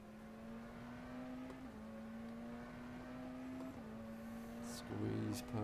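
McLaren Senna GTR race car in rFactor 2, mixed-class racing at Sveg: a steady, sustained engine drone holding a near-constant pitch under power, with brief gear shifts and a louder burst near the end as another car squeezes by.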